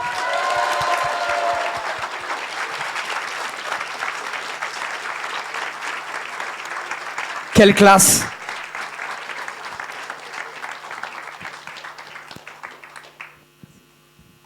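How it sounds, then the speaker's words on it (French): Audience applause fills a closing ceremony hall, steady dense clapping with a brief loud burst midway, then tapering off near the end; a voice briefly speaks over it. "je vais demander un tonnerre d'applaudissements pour le directeur de la mission locale de Cannes"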